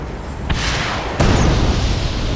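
Explosions in the real-time strategy game Red Alert 2 Mental Omega, two sharp loud booms about half a second apart over a dense crackling rumble of battle noise, with no talk.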